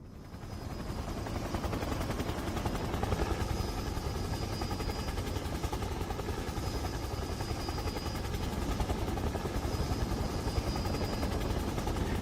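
A helicopter in the game Resident Evil gives a continuous loud rotor thrum with a steady engine drone and occasional high whine, constant throughout and unbroken by speech.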